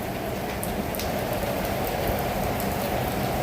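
Heavy rain pours down in Hyderabad, a dense, steady hiss of drops hitting surfaces close by, with no voices.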